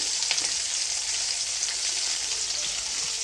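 Onions and green chillies fry in a hot pan for a savoury upma, giving a steady, close hiss of oil that stays even throughout with no voices.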